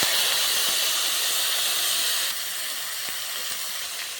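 Oil heats in a wok for sesame-coated flat beans, giving a loud, even hiss like steam that carries on steadily and eases slightly partway through.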